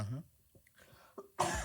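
A single short sneeze-like burst, close and fairly loud, comes at the end after a stretch of quiet background talk during a casual podcast conversation.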